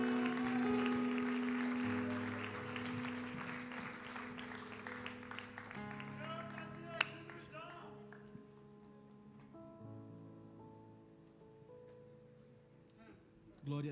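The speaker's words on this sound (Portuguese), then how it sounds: "Vamos aplaudir bem forte ao Senhor." A church congregation claps loudly and steadily for close to fourteen seconds, mixed in with sustained organ or keyboard music.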